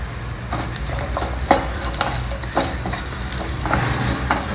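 Chopped bitter gourd pieces fry in a teaspoon of oil in a pan, a steady close sizzle punctuated by scraping stirs of a spoon.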